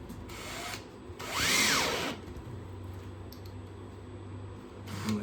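A power drill drives screws into a panel of an arboreal reptile enclosure, one short rising whine burst near the start and another at the very end, with quiet handling noise between.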